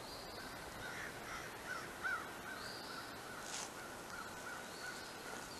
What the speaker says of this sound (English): I don't know if you can hear the birds.